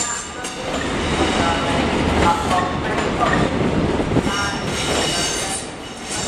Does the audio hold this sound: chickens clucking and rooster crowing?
no